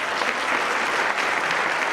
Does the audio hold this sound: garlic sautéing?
no